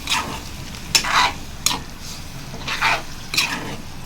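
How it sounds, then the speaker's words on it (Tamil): Chicken gravy is stirred in a pan, giving four or five distinct scraping strokes over a low, steady sizzle, close and moderately loud. "இப்போ நல்லா மிக்ஸ் பண்ணி விட்டுருவோம்."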